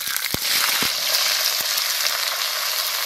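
Onions hit hot mustard oil with bay leaf and cumin in a pan, setting off a loud, close, continuous sizzle with a few sharp clicks as they land and are stirred.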